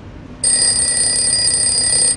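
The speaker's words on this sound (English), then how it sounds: "Three brass bells." Brass bells ringing in the I Spy Treasure Hunt game, a bright sustained metallic ring that starts abruptly after a short quiet pause and holds steady and loud to the end.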